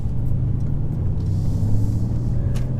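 A 2018 Mercedes-Benz C63S AMG sedan's engine rumbles low and steady from inside the car while driving, with a brief downshift blip and faint road noise, no talk.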